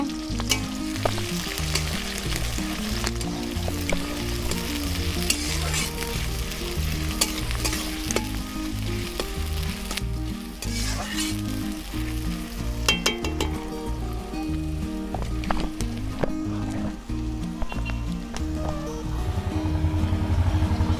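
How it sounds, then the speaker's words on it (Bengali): Onions fry in a pan with a loud, continuous sizzle, while a spoon stirs them in a steady rhythm of scrapes against the metal, close and without a break. "পেঁয়াজটা সুন্দর করে ভাজা ভাজা করে নেব।"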